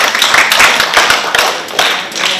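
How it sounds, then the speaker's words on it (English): Audience clapping at an International Women's Day event in Pohnpei, a short burst of loud, close hand claps with distinct individual slaps over a brief span. "Let's clap."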